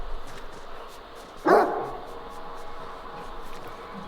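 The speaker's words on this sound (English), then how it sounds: "that's just a dog" A single sharp dog bark rings out in the video game STALKER 2: Heart of Chornobyl, set against a low, quiet ambient background.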